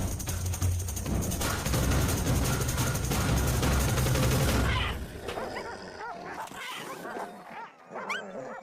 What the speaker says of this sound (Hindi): शिकारी कुत्ते, उन्हें उसकी गंध मिली।